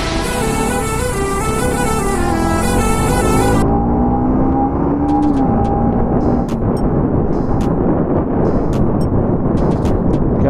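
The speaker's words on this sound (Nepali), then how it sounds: "बाइकको त्यो आवाज सुन्नै मजा आउने क्या" A motorbike engine climbs in pitch as the rider accelerates through Patan. Heavy rushing wind noise then swamps the engine drone, which stays loud and close throughout.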